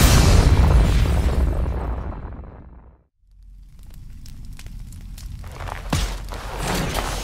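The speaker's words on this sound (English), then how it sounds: "Are they going to fire the main cannon?" The hivecraft's main cannon fires in Earth Defense Force: Iron Rain, a huge sustained roaring blast that fades to near silence, then rumbling aftermath with scattered crackling impacts.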